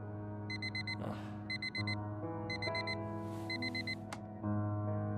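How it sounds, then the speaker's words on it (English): Digital alarm clock in the game Fragments of Him, beeping in repeated bursts of four high electronic tones over a steady low hum of game music, close and clear with no one talking. "Harry never wakes up from my alarm"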